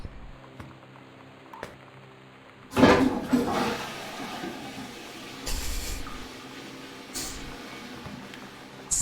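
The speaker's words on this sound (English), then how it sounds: "As soon as I get into this game, I'm just gonna flush a toilet." A toilet flushes in the Gone Home video game: a loud sudden rush of water that swirls and hisses, then settles into a quieter refilling hiss with a couple of later surges.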